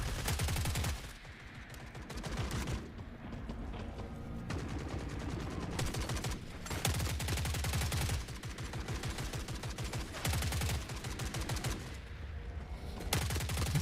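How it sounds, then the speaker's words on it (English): Grenade launcher fire and heavy gunfire in the video game Forever Winter, repeated loud bursts of rapid shots and booming blasts packed together with brief lulls, no voice. "Oh, grenade launcher."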